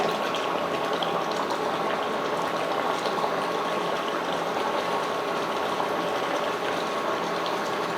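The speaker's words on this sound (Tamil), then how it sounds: "குழம்பு வந்து நல்லா கொதிச்சிடுச்சு இப்போ வந்து முட்டை சேர்த்துக்கிறேன்" Tamil egg curry (muttai kulambu) boils vigorously in a pot as eggs are added, producing a dense, steady bubbling hiss that holds at an even, fairly loud level from start to finish.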